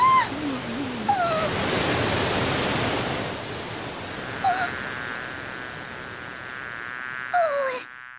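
A roaring waterfall rushes as a steady, loud broadband wash, with a few brief high chirps and squeaks over it before it cuts off abruptly at the end.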